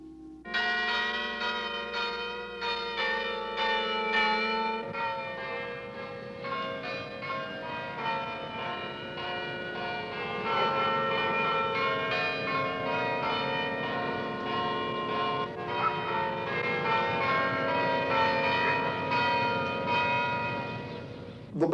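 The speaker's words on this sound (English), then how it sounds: "The bells can be heard a long way, can't they?" Church bells ringing out a Gilbert and Sullivan tune, a continuous, resonant melodic peal of many overlapping tones that carries steadily for over twenty seconds without talk.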